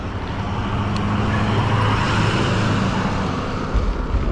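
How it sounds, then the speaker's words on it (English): Continuous dense road traffic rumbles past a roadside stop during an e-bike commute, cars and heavier vehicles blending into a steady loud wash with no let-up. "There is so much traffic today, guys."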